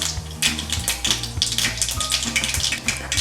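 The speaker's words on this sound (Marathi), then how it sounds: "आता जिरा मोहरी टाकायची। जिरा मोहरी अशी चांगली भाजून घ्यायची।" Cumin and mustard seeds sizzle in about one and a half spoons of hot oil, a steady close crackling hiss with small pops throughout, heard alone with no talk.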